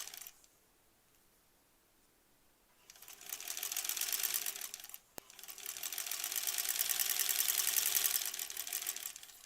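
A sewing machine runs in two steady bursts while granny square quilt pieces are stitched, starting after a quiet pause and briefly halting midway before resuming at a fast, even clatter.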